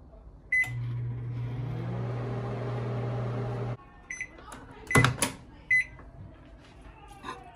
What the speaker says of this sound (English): You can melt the butter in the microwave for 1 minute.